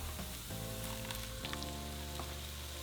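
Sauce hitting hot oil with fried onion and cilantro, a loud steady sizzle and crackle that flares up sharply twice as more liquid lands in the pan.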